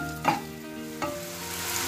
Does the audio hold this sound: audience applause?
no